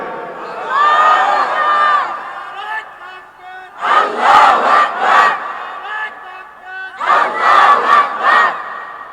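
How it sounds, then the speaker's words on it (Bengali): A large crowd at an Islamic religious gathering in Bangladesh roars the takbir in unison, three loud sustained waves of massed shouting, each swelling and then fading, with short gaps between them. "এইবার একটা তাকবীর দেন"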